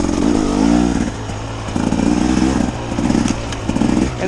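A 2024 KTM 300 XCW two-stroke dirt bike engine running close by, loud and buzzy, with repeated rev swells rising and falling in short bursts.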